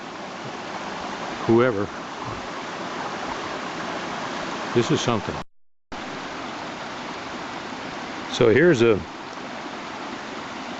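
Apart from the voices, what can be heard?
Salmon Creek water flowing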